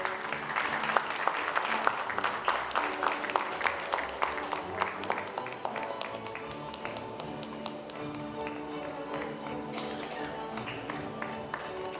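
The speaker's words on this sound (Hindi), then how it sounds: "तालियों की गड़गड़ाहट से उनका स्वागत किया जाए।" An audience claps at an award ceremony, steady and fairly faint, with dense, fast clapping in the first seconds that softens into a lighter patter, and no voices over it.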